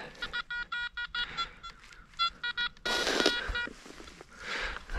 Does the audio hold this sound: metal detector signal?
yes